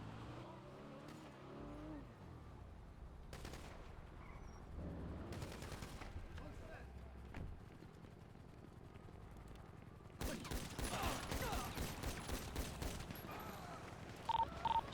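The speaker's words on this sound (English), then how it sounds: "Fury and Nova are shooting locals." Gunfire in GTA roleplay on the NoPixel server, bursts of automatic shots mixed with car engine noise and passing vehicles, intermittent at first and then a dense, louder volley near the end.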